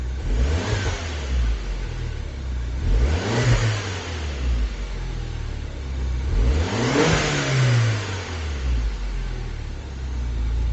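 A warmed-up 2010 Mini Cooper S R56 engine idling nearby, revved three times in short rising and falling bursts, with no talking.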